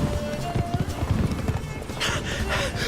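Hooves of Roach, a horse in The Witcher 3, clattering in quick irregular clip-clop beats, with a brief whinny and someone talking over it.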